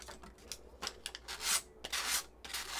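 Sandpaper rubbed along the cut edge of an aluminium soda can to remove burrs: short, quiet scratchy strokes in an uneven rhythm, some quick and light, others longer and hissier, close and alone.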